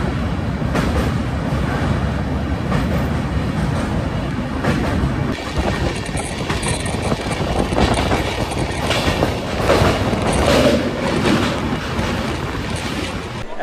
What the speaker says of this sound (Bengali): আমাদের ট্রেন এসে পৌঁছালো তার দ্বিতীয় হল্টে দক্ষিণেশ্বর